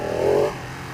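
A Ducati Panigale 959 engine at low RPM, around 2,000, gives a close, rough, uneven drone that swells briefly and then settles into a steady idle-like rumble.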